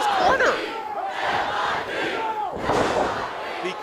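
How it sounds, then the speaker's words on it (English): A wrestling crowd at a Juggalo Championship Wrestling show chants "MIB" in loud, rhythmic unison, with the voices swelling and falling in repeated waves that fill the arena. "The crowd. MIB chants."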